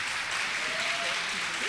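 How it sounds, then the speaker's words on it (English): Audience applause for panelists at a panel discussion on how Black women build generational wealth: a steady, dense wash of clapping filling the whole short moment. "can we give it another round of applause"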